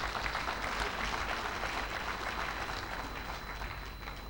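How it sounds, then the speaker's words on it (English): Audience at a bursary award ceremony applauds the scholars, a dense, even sheet of clapping that holds steady for several seconds and eases slightly toward the end. "they deserve another round of applause."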